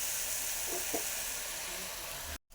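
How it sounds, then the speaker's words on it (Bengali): Food pieces frying in a pan give a steady, close sizzle that runs unbroken and stops abruptly at the end. No one talks. "আমরা সব পরপর ভেজে নিচ্ছি, একইভাবে ভেজে নিলাম।"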